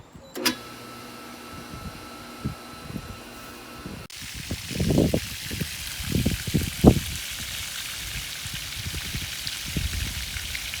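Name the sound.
swimming pool pump running, vacuuming water off the pool cover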